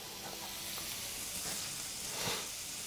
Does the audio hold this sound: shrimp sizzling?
yes